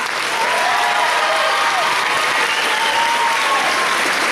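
Dense, steady clapping from a large crowd at a manga convention cosplay contest, loud and sustained with a few faint voices mixed in.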